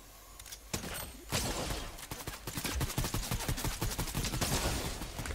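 Rapid sniper and automatic gunfire in the mobile version of Fortnite, dense bursts of cracking shots piling up over several seconds at a steady, fairly loud level with no voices.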